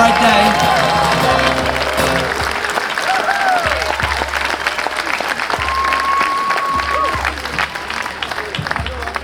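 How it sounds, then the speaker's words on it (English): A crowd claps and cheers at an outdoor protest rally on parliament lawns, dense steady applause mixed with scattered whoops and shouts, with brief voices over a low rumble. "keep that applause going."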